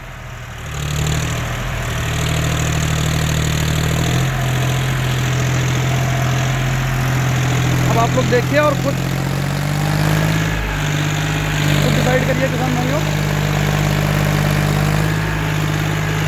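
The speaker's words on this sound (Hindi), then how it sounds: "अच्छी रफ्तार में किसान भाइयों ट्रैक्टर चल रहा है" A Mahindra Yuvo 4WD 585 tractor engine runs in a field in third gear with a steady low drone the whole time, while someone talks briefly over it partway through.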